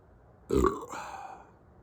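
A single loud, throaty burp after an evening of beer and cigarettes, rising abruptly and trailing off in a drawn-out, rumbling tail, close to the microphone with no talk.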